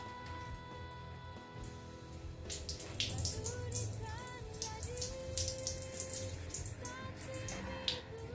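Water mixed with one dissolved tablet is poured from a scoop onto a potted aglaonema plant. Faint, continuous trickling and splashing plays against a soft tonal background.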